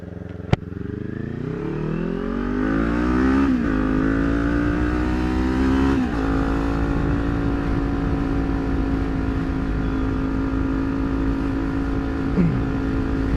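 Wind rushing over an AGV K1 helmet with visor down, picked up by a chin-mounted camera while riding a motorcycle, a loud steady roar mixed with the engine revving and shifting up through the gears.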